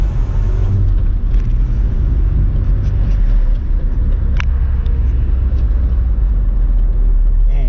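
Engine of a 1992 Nissan Hardbody D21 pickup running on a test drive after a tune-up, a steady loud low rumble heard from inside the cab, continuous throughout.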